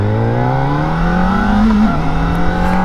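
A 2025 Kawasaki Ninja ZX-4RR with a 400cc engine ridden up to freeway speed, its engine note climbing steadily with a brief dip near the end, loud and close with no talking.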